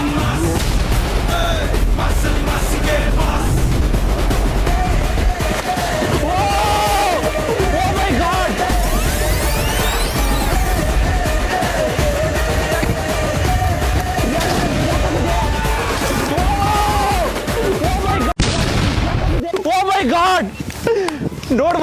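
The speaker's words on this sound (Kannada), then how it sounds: "ನೋಡ್ಬೋದು ಫುಲ್ ಬಾಂಬ್ ಬ್ಲಾಸ್ಟ್." Half a kilo of sodium metal dropped into water explodes in a continuous loud roar of crackling bursts and booms, sustained for about eighteen seconds before cutting away to calmer sound with people talking.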